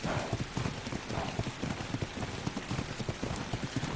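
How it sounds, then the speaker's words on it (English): Rain falls steadily in the game Ark: Survival Evolved as a dense, continuous patter, layered with a rhythmic thudding of running footsteps, close and fairly loud, with no voices. "It's raining out, which is fine."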